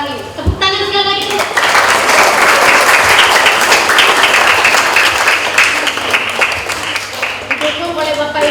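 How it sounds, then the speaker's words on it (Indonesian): Enthusiastic applause fills an Indonesian elementary school graduation and farewell ceremony. It rises after an amplified voice at the start and holds steady for several seconds, then a voice on the loudspeaker returns near the end. "Tepuk tangan sekali lagi."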